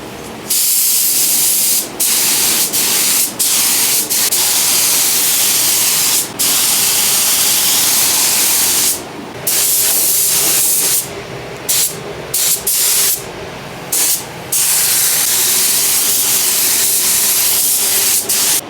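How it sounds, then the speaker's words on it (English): A spray gun lays base coat paint onto the rear bumper of a Mitsubishi Lancer Evolution VIII in long, loud, steady hissing passes, broken by several short pauses. "So mixing up the base coat right now, gonna base that, base this section on the rear bumper."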